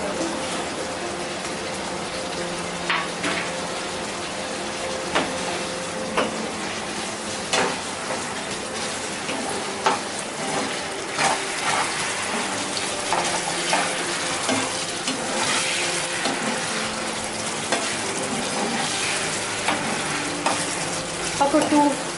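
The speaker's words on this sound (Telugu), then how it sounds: "సో నేను ఫ్రైడ్ చికెన్ పీసెస్ని ఇప్పుడు సాస్లో వేసేస్తున్నాను." Fried chicken pieces for chicken 65 tossed into sauce and frying, with a busy sizzle and repeated stirring clatter of a spoon against the pan, close and lively throughout, with occasional faint background voice.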